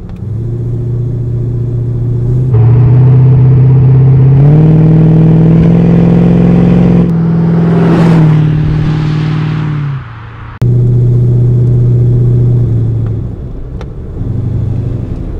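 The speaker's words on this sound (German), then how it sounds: "die ersten Meter hier in unserem Maserati Ghibli" 1969 Maserati Ghibli 4.7 V8 driving, a loud close engine drone that rises through the revs, dips briefly as it shifts, then settles into a steady cruise.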